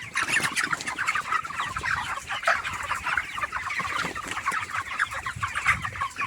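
Many broiler chickens cluck and chatter at once on a poultry farm, a busy, continuous flock noise close by without any talking.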